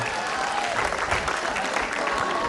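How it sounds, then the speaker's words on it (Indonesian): An audience claps loudly and steadily throughout at a studio event for Indonesian national television, with voices faint beneath the applause. "Tepuk tangan untuk Rino"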